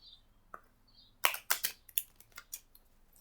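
Playing cards being handled close up: a few faint taps, then a run of sharp crisp snaps and flicks in uneven rhythm, fairly loud and with no talking.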